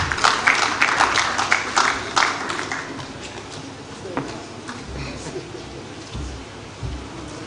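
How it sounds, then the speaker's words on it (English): Applause from the audience at the Abuja International Housing Show as a reverend is called up for closing remarks, a dense burst of clapping that thins and fades into a noisy hall with murmuring. "Please give him a round of applause."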